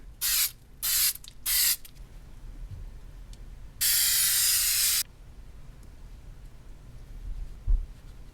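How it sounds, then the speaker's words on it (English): Spray adhesive hisses onto the vinyl of a 1971 Honda CT90 passenger seat in three short close bursts, then one longer steady spray, with quiet handling noises between. "maybe use some spray adhesive just to sort of tack this down onto the vinyl"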